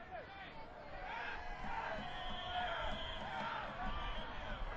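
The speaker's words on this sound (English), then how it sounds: "Crowd still enjoying themselves. Quite vocal." A soccer stadium crowd in the evening stays vocal through a goalless match, a steady roar of cheering and chatter filling the whole stretch at even loudness.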